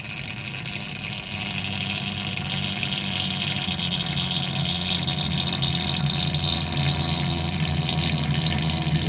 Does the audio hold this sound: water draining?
yes